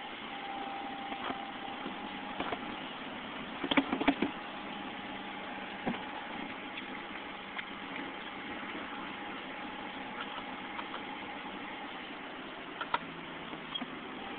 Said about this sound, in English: She won't idle over 2 grand.